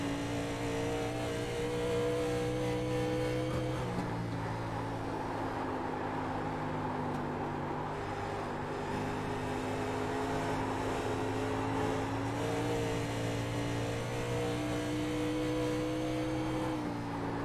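Race car engines in iRacing at Dover, a vintage cup series, drone loudly and continuously, with the pitch dropping and shifting a couple of times as cars run close together.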